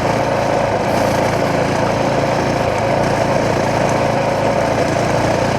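A motorcycle engine fitted with a Taco Moto ECU runs steadily under way, a continuous close drone mixed with wind rush, with no talking.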